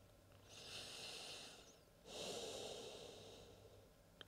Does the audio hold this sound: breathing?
yes